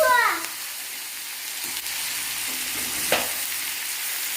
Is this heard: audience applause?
no